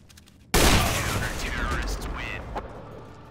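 Gunfire in the video game CS:GO during a competitive matchmaking round: after a quiet moment, a loud burst of shots erupts abruptly and rolls on in a dense, sustained volley that gradually eases.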